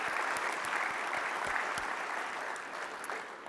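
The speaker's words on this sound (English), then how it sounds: "They would just give a clap for them, please" A large audience at a bariatric surgery society's presidential address claps steadily for an award-winning training committee, a dense, even wash of applause that holds strong throughout and eases slightly near the end.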